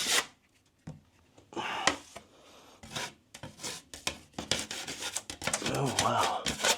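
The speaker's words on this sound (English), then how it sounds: "Should scrape it before you do this. Bit of a good old scrape." Scraping at damaged drywall with a tool ahead of filling with cornice cement, heard as close, uneven rasping and rubbing strokes in irregular bursts that grow denser toward the end.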